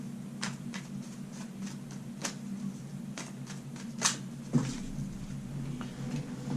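Tarot cards being shuffled in quick, papery riffles and snaps, moderately close, over a low steady hum, with a couple of sharper slaps near the end.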